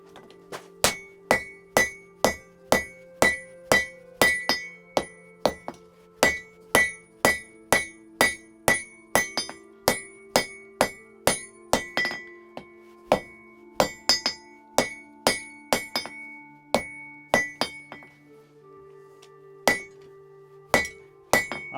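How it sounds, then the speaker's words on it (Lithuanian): A hammer forging an axe blade, likely at an anvil, rings out in a steady series of sharp metallic strikes, loud and close, with clinking overtones and short pauses between bursts. "Traukiu lauk, vėl kalu,"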